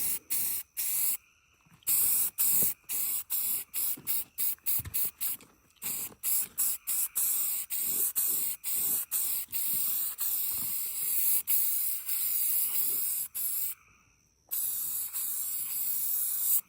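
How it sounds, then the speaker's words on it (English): Spray paint going onto a 1990 Dodge Dakota air cleaner in a series of short and longer hissing bursts separated by brief silences, close and loud, with no talking. "I'm gonna shoot a coat of paint on this air cleaner"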